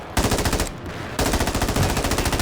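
Loud, close bursts of automatic gunfire in the shooter game Warzone, rapid evenly spaced shots in two sustained strings split by a brief gap.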